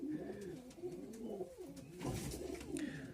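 Soft, low cooing from racing and fancy pigeons in a loft of about 42 birds repeats through the clip, with rustling and a brief louder burst of noise near the end.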